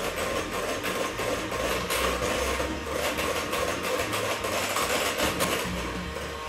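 An electric hand mixer whips a thick cream with cheese for a no-bake millefeuille, giving a steady, continuous motor whir and rasping churn that stays loud and even throughout, with no talking.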